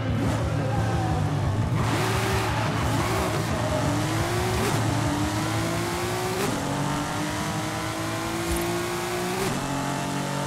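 A Porsche 997 911 Sport Classic with a racing gearbox in Forza Horizon 5 revs hard and climbs through several gears. Each shift is marked by a short break before the engine note rises again, with a steady loud drone throughout.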